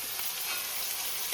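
Onions and tomatoes fry in a pan as part of making macaroni, giving a steady, close hiss of sizzling with faint stirring, ending in a slightly louder scrape.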